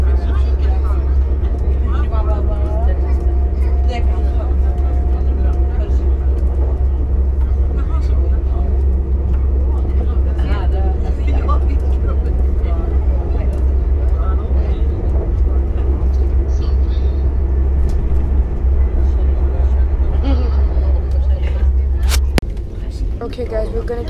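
Steady low rumble and hum of a moving passenger train interior in Sweden, bound for Falun via Arlanda, with faint muffled voices in the background.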